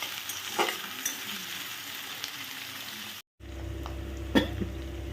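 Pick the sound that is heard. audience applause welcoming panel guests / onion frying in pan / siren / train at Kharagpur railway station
onion frying in pan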